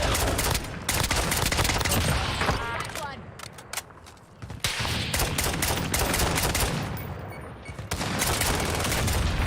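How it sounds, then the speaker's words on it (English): In Warzone, a friendly sentry gun fires dense, loud automatic bursts, near and relentless, broken by a couple of short pauses, with a voice talking faintly underneath. "Friendly sentry gun"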